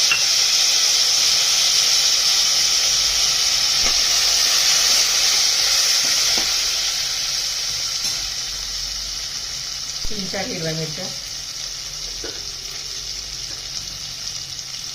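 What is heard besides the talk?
tempering sizzling in hot oil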